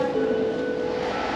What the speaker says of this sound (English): For that, we have to get in the metro again.